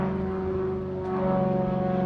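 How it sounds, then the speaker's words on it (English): A propeller airplane drones overhead above a junkyard, a steady humming engine tone with a faint throb that grows slightly louder, alone without talk. "We also found a plane flying overhead."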